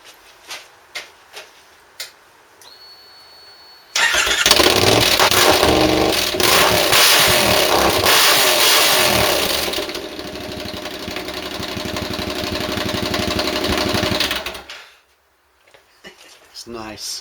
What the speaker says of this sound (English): Now a big rev out.